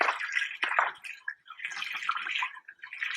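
Coolant glugs and splashes unevenly as it pours from a jug, a short, fairly quiet gurgling stream with brief pauses.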